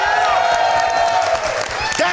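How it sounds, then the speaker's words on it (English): A live event crowd at a speedrunning marathon cheers and whoops loudly and continuously, with clapping mixed into the steady roar. "Let me hear it for Whitman."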